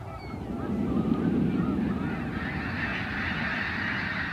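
A thousand snow geese taking off together, a dense chorus of honking calls over a broad rushing whoosh of wingbeats, loud and sustained, with no talk.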